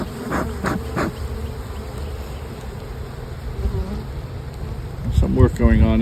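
Honeybees work in an open hive in the rain, a continuous close buzzing drone that holds steady throughout, with a few brief louder passes near the end.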